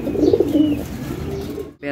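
Pigeons coo in a breeding loft where young birds have hatched, a soft low rolling coo repeating closely through the first part before fading under quieter loft sounds, with a brief gap near the end.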